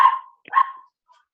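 A dog gives two short, clear barks close by, a brief pause between them, then a faint trailing yip in an otherwise quiet room.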